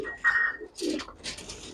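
A short run of pigeon calls: a tonal coo followed by a lower murmuring note and some fluttery rustling, close and fairly soft.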